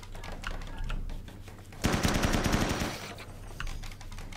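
Burst of rapid automatic gunfire from a firefight in the colony-building video game RimWorld, a dense rattling volley lasting about a second after quieter scattered shots, with sporadic single cracks following.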